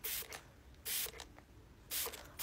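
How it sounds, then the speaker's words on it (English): A spray bottle mists hair in three short, crisp bursts spaced about a second apart, close and quiet, with faint handling noise between sprays. "just spraying your hair, just spraying your hair"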